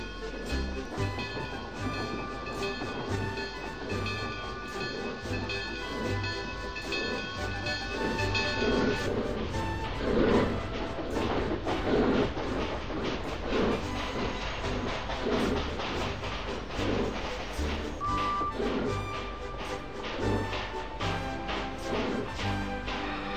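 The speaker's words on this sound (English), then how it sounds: "Daniel pushed the work train back up to Thomas Canyon" A work train moves along railway track in a steady, continuous rumble with wheel and car noise, fairly loud and without speech.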